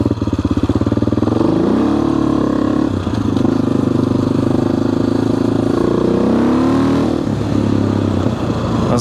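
AJP PR7 adventure motorcycle ridden on the road, its single engine droning loud and steady throughout with pitch rising and falling through gear changes, wind and mechanical clatter mixed in.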